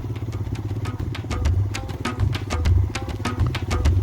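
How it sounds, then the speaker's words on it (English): A motorcycle engine rumbles steadily nearby on a forest path in Senchal Forest, Darjeeling, a low throbbing idle-like drone with mechanical clatter, while birds chirp repeatedly in the background. "The tweeting feathers of the wild is overshadowing even our rumbling engine noise."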